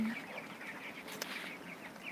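Broiler chickens in a farm shed cluck and murmur steadily together over a constant background fan hum, with one brief sharp knock midway.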